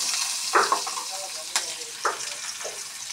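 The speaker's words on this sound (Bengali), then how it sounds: "পেঁয়াজগুলি বেশি ভাজবো না, হালকা ভাজবো।" Onions fry lightly in a pan with cardamom and cinnamon, a steady close sizzle with a few sharper spatula scrapes and stirs cutting through.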